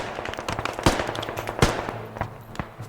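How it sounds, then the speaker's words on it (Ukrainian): Rapid bursts of gunfire in the video game Squad crackle through the clip, with two louder, sharper shots standing out against steady automatic fire and background noise. "По мені стріляють."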